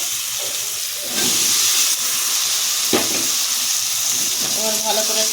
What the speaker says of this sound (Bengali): এবার আমি কাবলি ছোলাগুলো দিয়ে দেবো